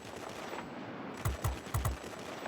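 F6U Pirate guns firing in World of Warplanes, four quick punchy shots in a short burst after a low engine drone, moderately close and loud.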